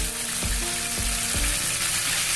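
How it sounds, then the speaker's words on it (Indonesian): Ground spice paste dropped into hot oil sizzles loudly and continuously, with a few soft scraping stirs at a steady pace and no voices. "Setelah dirasa panas, kita masukkan bumbu halusnya."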